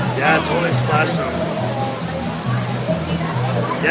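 An indoor waterfall at Casa Bonita restaurant splashes and rushes steadily in a broad wash, with people talking close by over the churning water.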